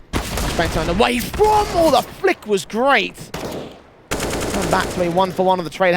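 Rapid bursts of automatic gunfire at a CS:GO match on the Vertigo map during IEM Cologne 2021, loud and close, overlaid by an excited commentator talking quickly.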